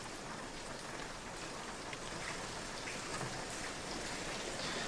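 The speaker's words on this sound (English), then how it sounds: "This rain don't seem to stop, does it, my lord?" Steady rain falls continuously, a dense even hiss of drops on surfaces with no pauses, no voices and no thunder.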